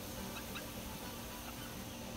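A small flock of farm chickens, mostly bantams, clucks softly amid a steady background hiss, with a few faint, scattered calls.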